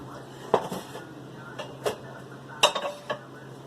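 A spoon clinks and scrapes against a baking dish while stirring baked macaroni and cheese with bacon. Several sharp taps come in an irregular rhythm, close and moderately loud.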